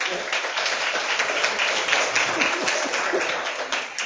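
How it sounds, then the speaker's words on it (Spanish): Sustained audience applause for a conference speaker in a university humanities department, a dense, even wash of clapping from a full room lasting throughout with no break. "con un fuerte aplauso"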